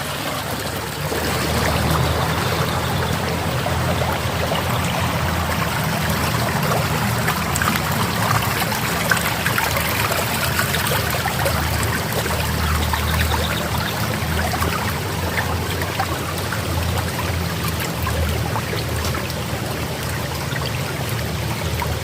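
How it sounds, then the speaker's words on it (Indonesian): Clear water running along a village rice field irrigation channel, a steady close trickling and bubbling flow that continues without a break. "Bagus saluran irigasinya, airnya mengalir, bening lagi"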